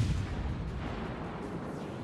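The cruiser Boise fires armor-piercing shells in World of Warships, giving a deep artillery boom that opens the moment and rolls into a low, rumbling tail.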